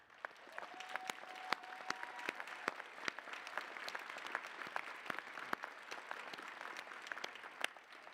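An audience at the 2021 Metropolitan Community College commencement in Starlight Theatre applauds graduating students, a steady, dense wash of clapping that sounds fairly distant and continues evenly without voices.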